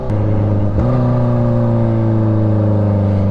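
A tuned Kawasaki Ninja H2 motorcycle with ECU flash engine accelerating: a loud, close engine note that drops briefly at a gear shift, then climbs again in strong harmonic tones.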